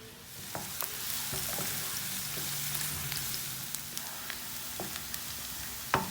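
Onions fry lightly in a pan with a soft, even sizzle, punctuated by scattered small pops and faint clicks of stirring.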